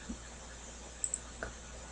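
Several faint computer mouse clicks, a single one early, then a quick pair and one more, sharp and brief against a quiet room background.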